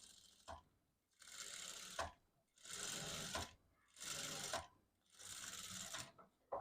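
A sewing machine stitching the neckline of a blouse runs in four short, even bursts with brief pauses between them, close and fairly quiet, with no talk.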